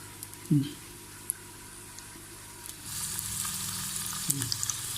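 Paneer pieces frying in about a tablespoon of oil for paneer karahi, a steady sizzle with a couple of soft thuds as pieces drop in and a brighter hiss swelling near the end.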